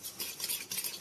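Cake batter with baking powder and sugar is stirred in a bowl, making a soft, scraping swish that rises and falls over a second; fairly quiet, with no voices.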